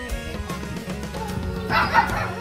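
A dog barks and yips in short bursts over a steady humming background, with a slightly louder yelp toward the end.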